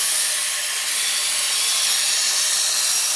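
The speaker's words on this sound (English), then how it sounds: "You can hear the machine sounds a bit more aggressive, I guess you could say, because it's removing more material at this stage." A Work Sharp Culinary electric knife sharpener grinding a knife edge gives a steady, harsh, close grinding hiss that stays even and continuous throughout.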